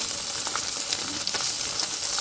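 Ginger frying in a pan sizzles as a steady, close crackling hiss with a few brief stirring scrapes, no voices.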